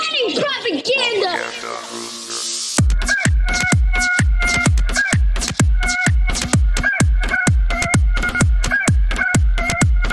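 A recorded rooster crows and clucks loudly and close, followed by a rapid run of sharp, evenly spaced percussive beats with bright tones, with no talk.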